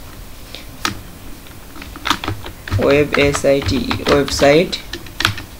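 Keys clatter on a computer keyboard in uneven bursts of typing, up close, while someone talks over the clicks.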